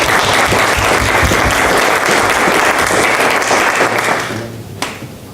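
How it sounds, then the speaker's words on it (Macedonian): An audience at a film festival screening Q&A gives a loud, dense round of applause for the film's presenters, sustained clapping that fades out over the last second. "И да ги поздравам со еден голем аплауз."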